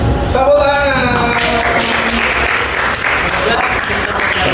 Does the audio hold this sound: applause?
yes